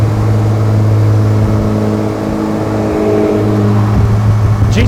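A Polaris Slingshot's engine pulls hard under acceleration while chasing a GTR on the road, a loud, steady drone with a rising note toward the end and no talking.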